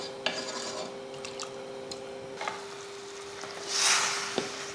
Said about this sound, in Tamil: நல்லா கொதிக்க ஆரம்பிச்சிருச்சு